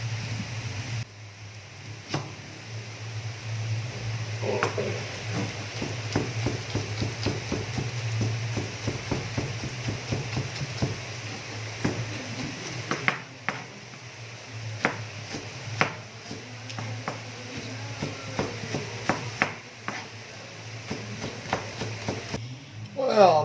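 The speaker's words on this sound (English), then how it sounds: "while you're chopping these onions up" Onions being chopped on a cutting board in a kitchen: a run of quick, steady knife taps close by, with a low hum underneath and occasional talk.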